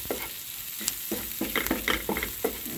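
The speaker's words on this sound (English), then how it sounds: "I'm going to mix in my curry" A spoon scraping and stirring through a pot of cooking pumpkin as curry goes in, several distinct strokes in an uneven rhythm over a soft sizzle, close and fairly quiet.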